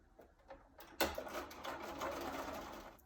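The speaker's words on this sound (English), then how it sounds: "go ahead and sew that middle block together." A sewing machine stitches a quilt block, starting after a few quiet taps with a sudden loud whir that settles into a steady, close mechanical hum for the rest of the clip.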